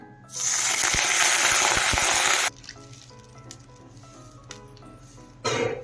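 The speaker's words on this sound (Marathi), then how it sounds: "आता त्यात पाणी टाकून घ्यायचं आहे" Water is poured into a hot pan of semolina roasted in ghee for sheera, setting off a loud burst of hissing sizzle for about two seconds that then dies to faint crackles before a short final hiss.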